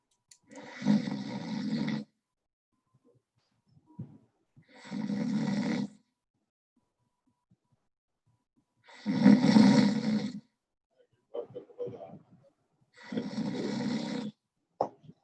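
A snoring sound effect played during a presentation: four long, loud rasping snores separated by silent pauses, with a few faint snorts between them.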